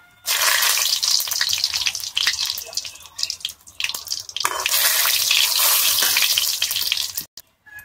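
Two dry red chillies hit hot oil for a tempering, giving a loud bright sizzle and crackle that swells, dips midway, surges again, then cuts off abruptly near the end.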